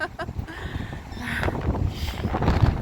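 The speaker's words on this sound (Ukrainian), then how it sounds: "Я йду по мостку, а тут такий вітер." Strong storm wind buffets the microphone on a boardwalk in the Netherlands in loud, rumbling gusts, with low booming turbulence throughout and a few faint bumps.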